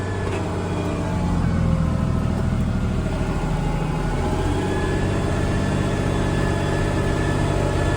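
An IH 5288 tractor engine runs under load while chisel plowing, making a steady, loud, low droning rumble that stays constant throughout inside the cab.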